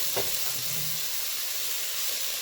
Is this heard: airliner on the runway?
no